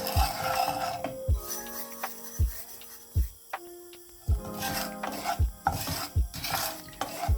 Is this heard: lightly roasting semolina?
yes